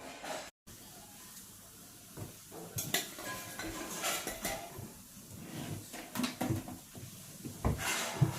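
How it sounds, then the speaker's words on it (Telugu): Pots, plates and utensils clink and clatter under running water as dishes are scrubbed in a home kitchen, irregular knocks over a faint steady hiss, fairly quiet. "గిన్నెలు అయితే తోమేస్తూ ఉంది"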